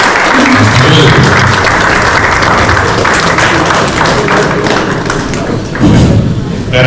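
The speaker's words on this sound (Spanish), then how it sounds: "Reiteramos el aplauso para el Padre, por favor." A large audience applauds a priest after his Christology talk, with dense, loud clapping that holds steady for several seconds and has thumping hits mixed through it.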